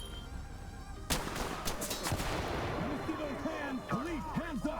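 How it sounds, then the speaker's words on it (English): A flashbang grenade in the tactical shooter game Ready or Not goes off with one sudden loud bang, followed by a lingering wobbling ringing tone. A voice seems to carry on underneath. "flashbangs are the standard by which all other grenades are measured"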